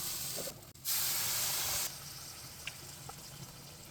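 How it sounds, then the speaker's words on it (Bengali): Water is poured into a pan of taro and spiced fish curry as it cooks. A sharp, bright hiss of splashing and sizzling rises for about a second, then fades into a softer, quieter spitting with a few small pops. "এখন আমি পরিমাণ মতো জল দিয়ে দেবো।"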